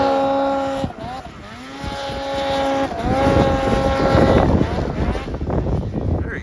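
A Polaris snowmobile engine runs steadily while riding early-season snow, a loud, close, droning whine with rising and falling pitch sweeps as the throttle changes.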